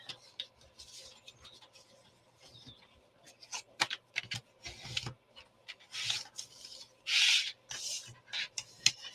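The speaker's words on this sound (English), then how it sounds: "Let's burnish." Cardstock is burnished for a folio with repeated short scraping and rubbing strokes of varied length, close and fairly quiet, over a faint steady background hum.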